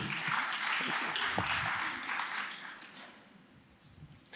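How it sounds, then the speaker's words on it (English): Audience applause at a climate neutrality forum, a dense wash of clapping that swells early and gradually fades away, with some voices mixed in. "A round of applause, please."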